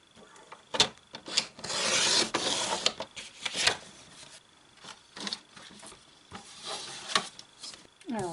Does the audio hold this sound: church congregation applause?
no